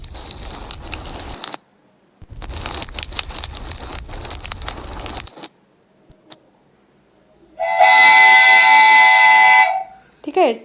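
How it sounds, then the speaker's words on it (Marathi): A short train sound effect from a copyright-free effects library, with a bright, sustained whistle-like blast after several bursts of clattering noise and brief pauses. "ट्रेनचा आवाज."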